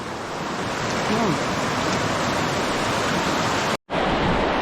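Loud, steady rush of a fast-flowing river, a broad continuous roar up close from the riverbank with wind buffeting, briefly cut off near the end.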